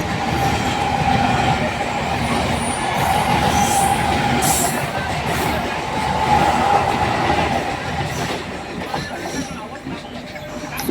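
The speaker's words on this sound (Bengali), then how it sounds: "ক্রস করছে লোকাল, বম্বে লোকাল ক্রস করে বেরিয়ে যাচ্ছে।" Bombay local train crossing past the Mumbai Mail 12810, a continuous loud rumble of wheels and carriages with faint clatter and squeal, steady throughout.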